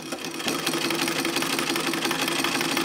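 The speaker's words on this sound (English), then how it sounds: "I'm gonna run this sewing machine. I'm actually gonna run it backwards." A 1908 Singer sewing machine runs backwards, producing a steady, fast mechanical whirring and clatter at moderate volume, continuous throughout with no talking.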